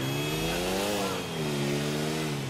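Motorcycle engine in GTA 4's Ballad of Gay Tony add-on, revving loudly and steadily with a rising and falling pitch over a couple of seconds.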